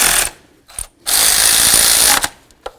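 A ratchet wrench drives in alternator bracket bolts on a 1998-2002 Honda Accord, two loud, close bursts of rapid clicking, the second longer, separated by brief pauses.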